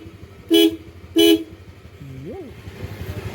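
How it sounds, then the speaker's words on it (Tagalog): A car horn is checked during a vehicle inspection: two short, loud honks about half a second apart, followed by a voice speaking nearby. "check natin mga idol ang busina. Napaka-importante ng busina."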